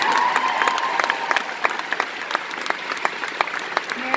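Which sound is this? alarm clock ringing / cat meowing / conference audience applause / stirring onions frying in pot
conference audience applause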